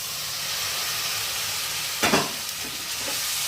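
Pre-fried galda prawns are stirred into a spice masala of chili, turmeric, onion, garlic, ginger paste, cardamom, clove and cinnamon, with a steady hissing sizzle and a short scraping stir near the end.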